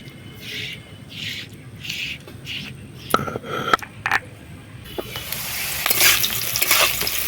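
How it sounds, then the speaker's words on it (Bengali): Malabar spinach stalks frying in a pan, with a steady sizzle, rhythmic stirring strokes and several sharp utensil clicks; the sizzle swells louder and brighter toward the end. "পুঁই ডাঁটাগুলো কিন্তু খুব সুন্দরভাবে ভাজা হয়ে গেছে"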